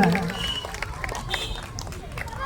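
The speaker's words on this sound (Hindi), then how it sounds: "बहुत एक बार जोरदार ताली हो जाए।" Loud applause and crowd noise at an Independence Day celebration at Gurukul International School in Katoria, a busy mix of clapping and chatter with voices mingling in the room.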